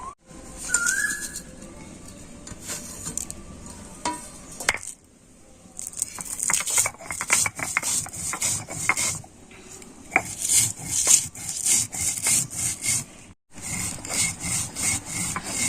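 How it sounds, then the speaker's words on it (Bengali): Roasted pickle spices for a raw mango pickle are ground by hand on a shil-nora grinding stone, giving close, rhythmic stone-on-stone scraping strokes with short pauses, while birds coo and chirp in the background. "এখন আমি মশলাটা শিলনোড়াতে গুঁড়ো করে নেবো"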